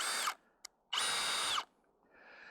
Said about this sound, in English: we'll see if the drill can do it. We'll put it in low for a little more torque